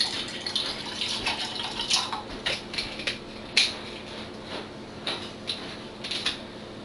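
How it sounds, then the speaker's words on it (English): Bottled drinking water being poured into a container, a faint trickle broken by irregular splashes and gurgles, close and quiet, with no talk. "And so I'll just continue pouring here."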